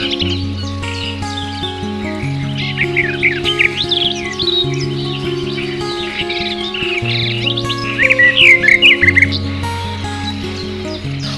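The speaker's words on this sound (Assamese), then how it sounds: "চৰাইৰ বাঁহবোৰত উমলিছে এজাক টুকুৰা চৰাই" A flock of tukura birds chirps busily among bamboo in rural Barchala, Sonitpur, Assam. Rapid, overlapping tweets sound close by over steady background music.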